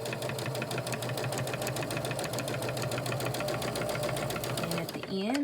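A Kenmore 385 series sewing machine with a straight stitch foot runs steadily along fabric under foot-pedal control, giving a fast, even mechanical whirring and ticking that continues without a break.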